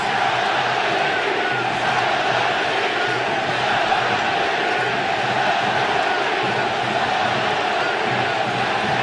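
A baseball crowd at the Oakland Coliseum roars in a sustained, loud wall of cheering and shouting, steady for several seconds with scattered whoops rising out of the din.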